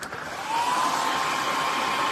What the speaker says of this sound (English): let me hit the pumpkins with the hairdryer really quick so I can just dry that up